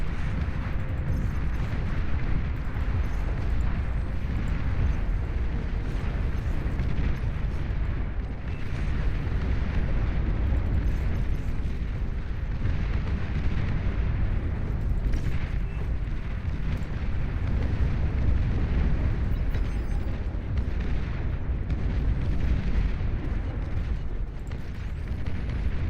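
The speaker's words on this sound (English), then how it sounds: "Cannons are targeting your units." Cannons firing at units in a video game make a continuous, heavy roar of blasts and rumbling explosions that holds loud and dense throughout.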